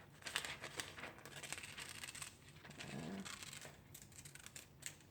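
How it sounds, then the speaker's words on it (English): Scissors snipping a circle out of yellow paper, close and quiet, with a series of small crisp cuts and paper rustling, no talking. "So I'm going to cut from this yellow, I'm going to cut a circle."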